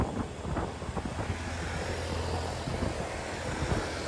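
A motorcycle engine with a badly dragging clutch drones steadily up close, a low rumbling hum with a gritty, rough edge running through the whole stretch.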